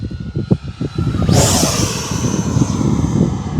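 An FMS Avanti 90mm electric ducted fan RC jet on a 6S lipo makes a flying pass: a loud whooshing whine swells in over outdoor rumble and lingers as it sweeps by, near and steady.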